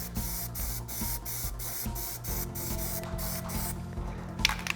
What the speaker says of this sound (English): Now I'm just gonna start shooting the paint straight down